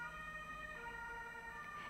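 Emergency vehicle siren wailing steadily in the background with layered tones, faint but continuous throughout, no speech.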